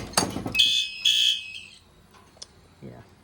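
Homemade fire alarm demo system with an FCI MS2 panel set off, a short loud electronic alarm tone burst after a thump, then quieter clicks and handling noise, close by.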